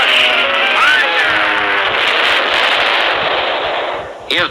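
A cartoon gunshot effect from an old animated adventure, one loud sustained blast with a ricocheting whine near the start and a short final burst, heard alone.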